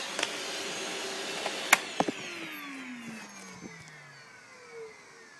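A repaired vacuum cleaner runs with a steady motor hum and high whine throughout, with a few sharp knocks and clicks partway through and a falling tone near the end.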